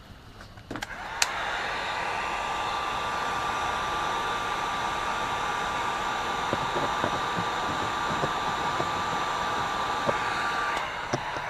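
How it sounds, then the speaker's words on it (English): A heat gun shrinks heat shrink tubing over a soldered wire joint during a Graflex 2.0 lightsaber build, giving a steady, loud blowing whir that starts with a click and runs almost unbroken before cutting off near the end. "I'm going to shrink that up."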